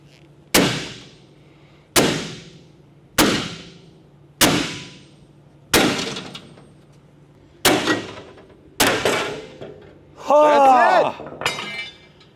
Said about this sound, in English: let's swing this hammer and knock this piece off